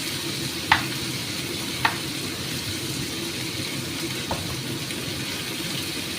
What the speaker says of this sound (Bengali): একটু নাড়ানাড়া করতে করতে সব মশলা দিচ্ছি